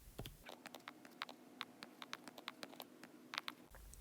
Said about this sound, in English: Here, I'm just going to have to type them in.